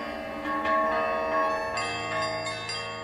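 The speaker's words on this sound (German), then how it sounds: "Geh in den Garten und lass die Glocken erklingen." Bells ring in a garden by the sea, layered metallic tones sustaining and overlapping, with fresh strikes adding brighter accents every half second or so, steady and fairly close.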